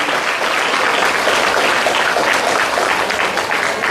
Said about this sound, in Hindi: आप लोग जरा एक बार ताली बजा के स्वागत करिए रंजीत प्रभाकर जी के लिए